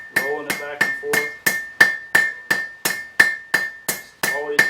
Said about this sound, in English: I'm using this side of the hammer in creating the pinch point